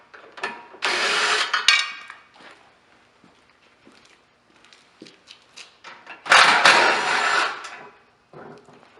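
Bolts being backed out of the bumper crossmember on a 2016 Jeep Trailhawk, heard as two loud bursts of rapid ratcheting and metallic clatter, with scattered clicks, taps and handling noises between them and no talk.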